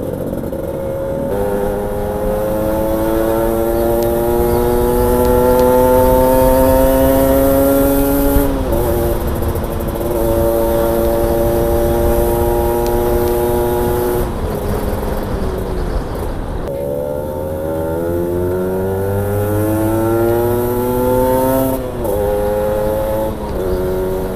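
A motorcycle engine fitted with an iridium spark plug revs up and down, its smooth rising and falling engine tone close and loud, climbing steadily, dropping, then climbing again across several long revs.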